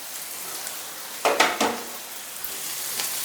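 Green chillies and curry leaves sauté in hot oil for an egg masala, a steady soft sizzle broken by a few louder bursts as they are stirred, close by, with no talk.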